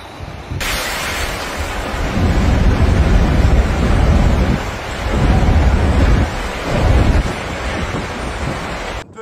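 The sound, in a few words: strong wind blowing during Storm Benjamin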